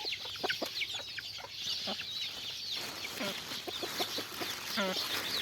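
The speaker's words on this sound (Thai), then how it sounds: "งานแหลกคือมาให้อาหารไก่ด้วยครับ" Several jungle fowl chickens cluck and chatter nearby in quick, scattered calls, with a few louder squawks rising near the end.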